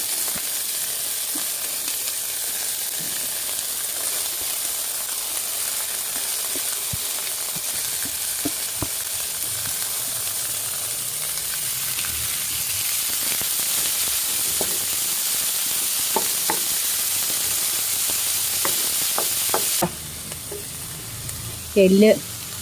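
Frozen corn and chopped carrot fry in a pan, a loud continuous hiss and sizzle with soft stirring scrapes, ending with a few louder clanks near the finish.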